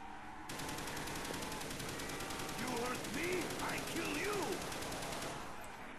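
Steady, rapid automatic gunfire at zombies in Call of Duty's Verruckt map, a continuous rattling stream lasting several seconds with a player's voice talking over it.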